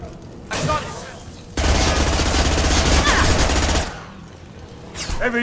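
Sustained heavy weapon fire in Mass Effect Legendary on Omega near the professor's clinic, with a short loud burst, then a long roaring stream of rapid shots lasting over two seconds before dropping off, followed by another burst starting.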